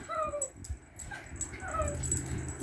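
A pet dog whimpers and yips excitedly in thin, high, rising whines that repeat across the clip, heard close and fairly loud over a busy background.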